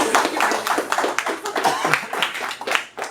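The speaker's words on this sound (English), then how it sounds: "let's give it a round of applause for our first reader" An audience at a reading night claps for a reader, with scattered, fairly close hand claps forming brief, modest applause.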